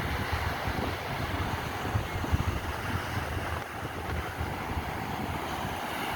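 Strong ocean waves roll in continuously at a beach in Aringay, La Union, in the evening, mixed with gusty wind rumbling against the microphone, loud and steady with no voices.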